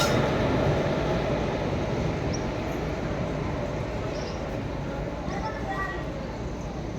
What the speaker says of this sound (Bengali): এটা কিন্তু 2 নম্বর প্ল্যাটফর্মে ট্রেন ঢুকলো।